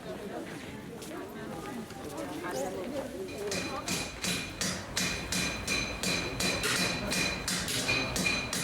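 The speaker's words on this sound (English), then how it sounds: "The hammers of the coppersmiths still ring in the old bazaar" Coppersmiths' hammers strike copper in an old Turkish bazaar, ringing metallic blows in a steady, fairly rapid rhythm that starts after a few seconds and continues close and clear over a background murmur.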